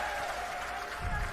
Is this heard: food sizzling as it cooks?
no